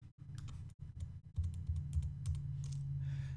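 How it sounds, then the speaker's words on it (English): Keyboard shortcuts tapped out on a computer keyboard: a quick run of close, crisp key clicks and presses with brief pauses between, quiet and alone. "I'm going to do a control or command A and then a control I"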